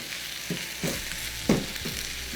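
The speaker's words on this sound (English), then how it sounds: "we're going to add our corned beef. And we're just going to mash this down a bit and get it going." Corned beef and onions sizzle in a hot pan while being mashed down, the steady frying hiss broken by a few dull thumps and scrapes from the utensil, close and clear.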